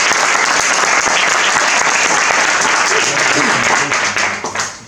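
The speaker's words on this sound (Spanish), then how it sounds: "Un aplauso para los chicos." A crowd claps loudly at a public talk on UFOs and popular culture, dense continuous applause that holds strong for several seconds and then tapers off, with faint voices mixed in.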